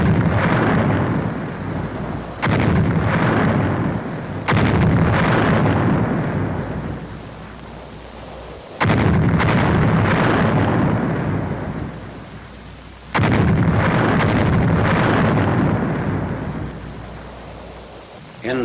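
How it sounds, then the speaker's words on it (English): World War II artillery shells the town of Mézières-les-Metz in loud, rumbling booms that roll on for several seconds each, with fresh blasts landing about every few seconds in a heavy continuous barrage. "Final shelling of the town is directed by the 7th Field Artillery Observation Battalion."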